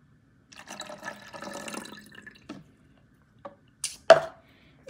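A homemade hair spray mixture is poured into a spray bottle: a short, close liquid pour of about two seconds, then a few sharp clicks and taps of the bottle.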